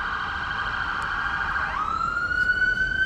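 A loud wailing ambulance siren sweeps past outdoors, its pitch dropping midway as it goes by, alone with no talking.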